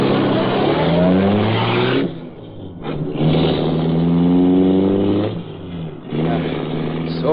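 A car speeds away as a radio drama sound effect, its engine roaring loudly and revving in surges with brief dips between gear changes, sustained and close throughout.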